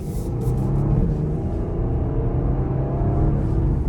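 A 2025 Porsche Panamera 4S E-Hybrid with PDK gearbox drones steadily from inside the cabin, a continuous low engine rumble at moderate level with no distinct shift breaks standing out.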